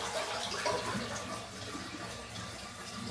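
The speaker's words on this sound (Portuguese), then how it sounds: "Vamos dar uma descarga aqui que é para esvaziar o." A toilet flushes during a repair of a leak under the bowl, with the supply hose connection loosened; steady, fairly close rushing water fills the whole stretch without letting up.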